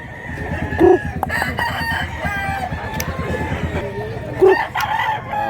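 At a chicken market in Mantalungon, Cebu, a rooster crows twice over a steady background of crowd chatter and scattered clucking from caged birds.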